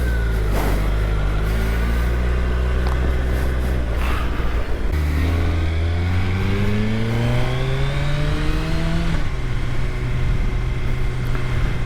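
A Gen 3 Suzuki Hayabusa motorcycle accelerating hard with traction control and lift control set to 1, its engine roaring loud and close as the pitch climbs steadily and drops at each gear change.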